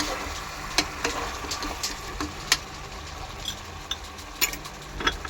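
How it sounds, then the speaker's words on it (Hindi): Mutton fries with ginger-garlic paste and ground tomatoes in a pot, giving a soft steady sizzle broken by sharp clicks and scrapes of a spoon at irregular intervals. "तो चलिए इसको अभी अदरक लहसुन के साथ में अच्छे से भून लेंगे।"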